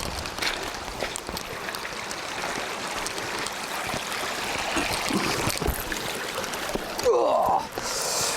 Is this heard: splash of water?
yes